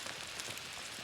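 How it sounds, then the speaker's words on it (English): Steady rain patters at a wild camp on Dartmoor during a storm, a soft continuous hiss of drops on surfaces, faint and even, with no voices. "Still raining."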